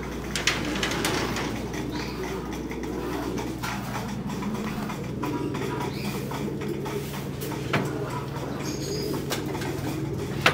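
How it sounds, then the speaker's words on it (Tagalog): Pigeons in a breeding loft feed on breeder mix grain, with soft cooing, scattered pecking and wing flutters over a steady low hum, the birds fairly close and the sound continuous throughout. "Kain na sila ng kalapatids breeder mix ni Boss Ronald Gonzales."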